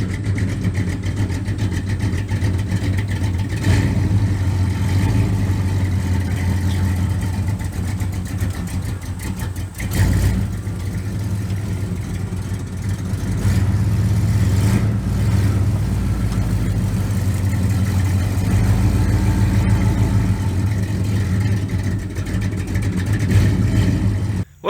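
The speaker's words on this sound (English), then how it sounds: "let's see if we can't mash these down with the truck." A 1972 Chevrolet C30 truck, abandoned on a farm for fifteen years, rumbles steadily as it drives over and mashes down weeds, its engine loud and close with occasional revs and surges and no voices.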